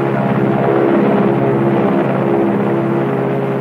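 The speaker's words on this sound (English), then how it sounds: "The bomb-carrying plane makes its initial run." A bomb-carrying airplane flies its initial run, its engines giving a loud, steady drone with a low throbbing rumble that holds unchanged throughout.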